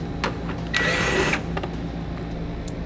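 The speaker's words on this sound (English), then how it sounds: "Remove the 2 screws on your lower taillight assembly using an 8mm socket." Short whirring burst of a power tool driving out a lower taillight assembly screw with an 8mm socket on a vehicle, about half a second of buzzing amid faint clicks, close and fairly quiet.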